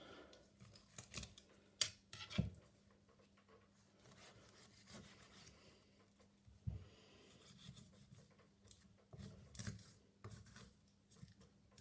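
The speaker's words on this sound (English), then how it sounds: "we can remove the meat from the bone here simply by cutting around each side of the bone" A knife cuts meat away from both sides of the bone on a lamb shoulder, with close, intermittent scraping and rubbing strokes and a few sharper knocks, no voices.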